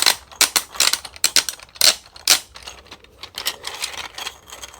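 Stiff wheel on a 3D printed twelve-in-one fidget toy being turned, giving loud, close, irregular bursts of rapid plastic clicking and ratcheting with short pauses between turns.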